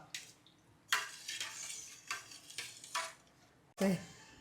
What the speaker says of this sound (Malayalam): അപ്പം ഇടയ്ക്ക് ഇത് ഇളക്കി കൊടുക്കണം കേട്ടോ